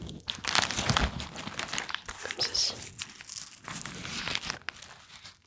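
Crinkling and rustling of fabric or plastic as a small two-compartment first-aid pouch is handled and opened, with a voice speaking briefly over it.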